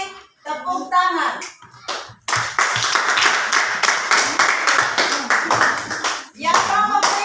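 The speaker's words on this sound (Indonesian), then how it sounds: "Tepuk tangan." A group in a classroom setting claps hands together, brisk close clapping building into a sustained burst, with voices speaking before and after.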